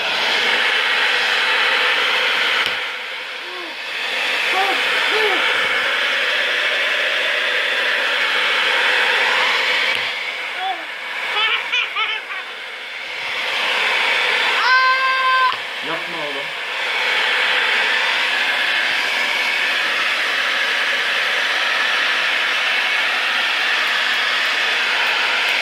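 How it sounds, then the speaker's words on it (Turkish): A powerful hair dryer blows steadily to heat a phone and loosen its screen, a loud continuous whooshing roar that dips briefly a few times, with people talking over it. "Fön makinesi bayağı kuvvetli oğlum."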